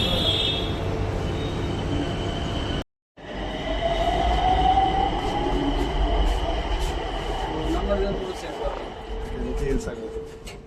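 A Nagpur metro train runs at Bansi Nagar station, a steady loud rumble with a rising whine and a short break in the sound, as people talk over it.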